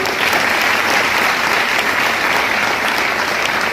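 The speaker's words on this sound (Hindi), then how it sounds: "मैं चाहूंगा ऐसे ग्रेट अपलाइन के लिए जोरदार ताली होनी चाहिए" Large seminar audience at a Vestige success event giving a thunderous, sustained ovation for an upline, a dense unbroken roar of clapping, loud and close, with no talk over it.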